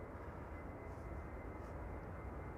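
Delta Airlines A350 airliner taxiing at Amsterdam Schiphol Airport, a steady distant engine roar and broad rumble holding evenly throughout with no speech.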